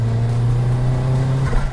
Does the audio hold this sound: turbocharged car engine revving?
yes